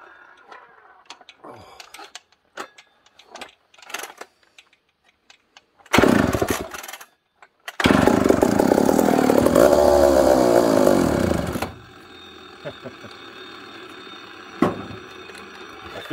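A Husqvarna 44 chainsaw engine revs loudly and steadily for several seconds while cutting big firewood, rising to a sustained roar before dropping back to a low idle, with scattered knocks and handling noises before it starts.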